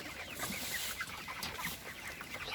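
Broiler chickens on a poultry farm cluck faintly in a dense, overlapping flock murmur, distant and low, with scattered sharper clucks and no talking.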